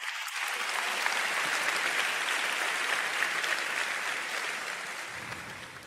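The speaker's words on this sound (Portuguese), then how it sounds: "Posso receber um amém e uma salva de palmas para Jesus?" A congregation at City Harvest Church in Singapore claps in a loud, dense burst of applause. It swells quickly, holds for several seconds and then tapers off, with no voices over it.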